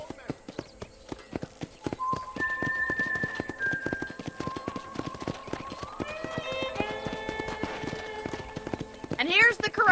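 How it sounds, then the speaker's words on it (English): Horse hooves clip-clop steadily at a ranch corral in Red Dead Redemption, a rhythmic run of sharp taps close by, while characters talk over the footfalls. "This one's for the horses."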